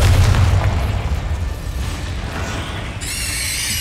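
A Confringo fire spell explodes in the Hogwarts Legacy video game with a loud, deep boom at the start that rolls into sustained rumbling, followed by a bright shimmering magical tone near the end, with no talking.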